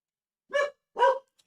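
Dog gives two sharp barks about half a second apart, moderately close and fairly quiet, with silence between them.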